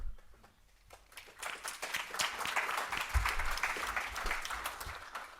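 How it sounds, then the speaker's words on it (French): Audience applause at a general assembly meeting, rising from scattered claps into sustained clapping at moderate volume that carries on to the end. "Merci pour les applaudissements"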